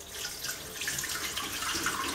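Soft, continuous trickle and splash of water poured through a brine shrimp net while straining a Daphnia culture, faint and close, with no speech.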